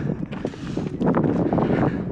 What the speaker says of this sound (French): ça souffle, comme d'hab.